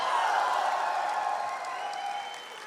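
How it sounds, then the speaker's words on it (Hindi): An audience claps and cheers at the Coalescence college fest at BITS Pilani Goa, a dense, steady wash of applause that stays loud and eases off slightly toward the end. "एक बार जोरदार तालियां कॉलेसेंस के लिए प्लीज"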